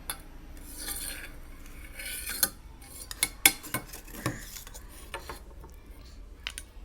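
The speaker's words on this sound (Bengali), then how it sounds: "এই চামিচ নেও, এই চামিচ নিয়ে খেলা করো" A small child bangs and scrapes a spoon in a bowl, producing faint, irregular clinks and taps with a few sharper knocks over a quiet room background.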